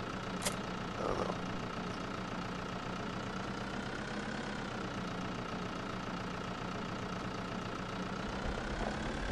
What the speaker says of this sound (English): Maybe I'm using the wrong tractor for this.